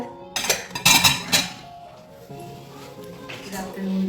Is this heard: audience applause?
no